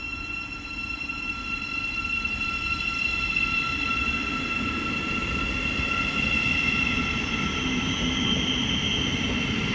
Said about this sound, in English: Now departing is the 1330 Thameslink service from London King's Cross to Cambridge.